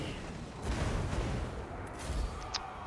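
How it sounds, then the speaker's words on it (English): Flame cannons fire in the Total War: Warhammer 2 battle game, heard as rumbling booms and crackling blasts that swell twice over a noisy battlefield din. "whatever it is you're firing at with flame cannons"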